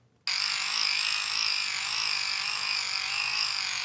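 The stiff hand crank of a Canadian Red Cross emergency kit is wound, a continuous buzzing, ratcheting whir that starts abruptly and keeps going at a steady pace, close and fairly loud.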